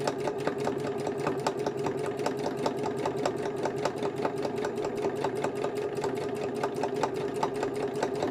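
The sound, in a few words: sewing machine stitching gardening journal covers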